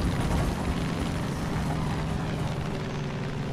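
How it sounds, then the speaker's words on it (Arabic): A plane flying in the video game Far Cry 5, a steady propeller-engine drone holding level and loud throughout, with no talk. "ده حلوة الطيارة دي"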